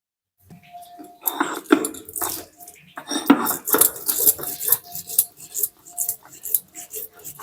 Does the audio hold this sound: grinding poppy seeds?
yes